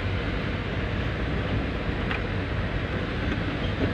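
A manual car cruises in fourth gear, its engine and road noise forming a dense, steady rumble with no breaks for the whole stretch.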